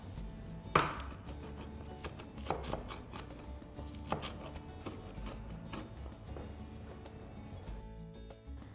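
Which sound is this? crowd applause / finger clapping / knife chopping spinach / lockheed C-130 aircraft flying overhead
knife chopping spinach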